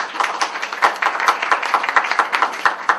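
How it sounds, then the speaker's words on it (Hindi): A group claps at a press conference for a campaign honouring Mohammed Rafi, with rhythmic, fairly loud, close hand claps that keep an even beat through the whole stretch. "जोरदार तालियां"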